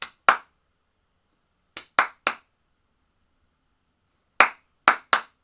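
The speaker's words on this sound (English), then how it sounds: "You got some clapping motions." Sharp hand claps in a rhythmic pattern: two quick claps, a pause, three claps, another pause, then three more, close and crisp with silence between groups.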